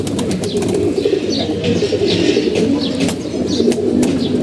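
Pigeons of an old bloodline, now rare, kept in a loft, coo steadily and continuously close by, with faint chirps and occasional wing sounds layered over the low cooing.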